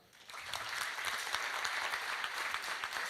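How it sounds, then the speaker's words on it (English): A brief quiet moment, then a tech conference audience at ServerlessDays Milano 2025 bursts into applause that stays dense and even until the end. "Please give an applause."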